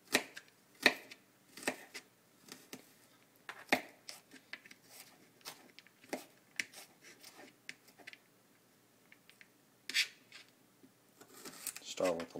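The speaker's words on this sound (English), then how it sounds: "since we're on location we're going to go old school and do a fine chop" A knife finely chops garlic on a board, on location outdoors, with irregular crisp taps and short rapid runs of cuts, some louder and some faint, with a person talking in between.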